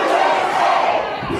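A large rally crowd chants and shouts together in a dense, loud roar that holds steady throughout, with no single voice standing out.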